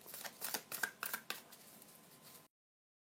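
Oracle cards are shuffled by hand: a quick run of soft, riffling bursts, quiet and close, that stops abruptly into silence.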